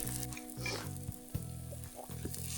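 Pancakes sizzle in bacon grease on a campsite griddle, with a steady close crackle and hiss throughout and a few soft clicks and taps of a utensil.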